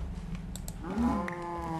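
A cow moos in Minecraft, one drawn-out low moo rising midway through, heard over faint game background noise, with no speech.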